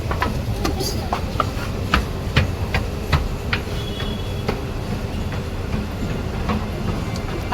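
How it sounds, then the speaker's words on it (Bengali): A metro train runs through a station near Dum Dum. A continuous rumble carries repeated clicking wheel clatter at steady intervals, and people's voices are heard faintly underneath. "এখনই মনে হয় একটা মেট্রো আছে"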